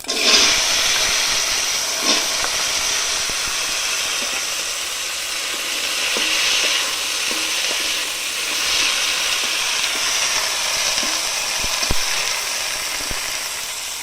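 Taro stems dropped into hot oil with cumin seeds in a pan over a village clay stove, giving a steady broad sizzle throughout with scattered small crackles and pops.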